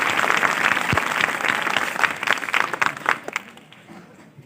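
Audience applause at a school National Mathematics Day ceremony in Aligarh, a dense steady wash of many hands clapping that thins and fades toward the end.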